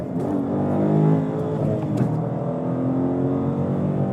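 A 2015 Dodge Challenger R/T ScatPack with a 485-horsepower engine revs in a steady, close, loud V8 drone that swells briefly then holds at an even pitch.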